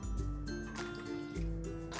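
Fresh lemons are pressed firmly by hand, giving a steady run of wet squishing and dripping juice with soft liquid gurgles, close and continuous with no talking.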